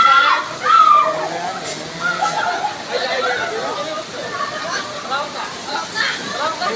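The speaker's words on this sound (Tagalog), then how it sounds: "nandito na po tayo sa Kanding Falls" A waterfall with people swimming at Kanding Falls, steady rushing water with splashing and sloshing, while voices talk and shout excitedly over it.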